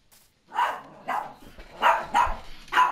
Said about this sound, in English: My actual dog is such a piece of crap.